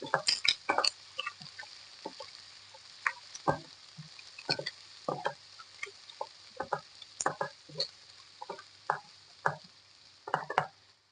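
Onion frying in a mix of oil and ghee in a pan, with a low steady hiss under scattered crackles and small pops, plus a few sharper clicks of a spoon or pan, fairly close and moderately quiet.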